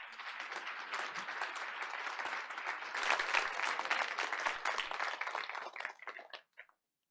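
A room of people at a Board of Education meeting claps in a dense, sustained round of applause for several seconds, holding steady before quickly tapering off into silence.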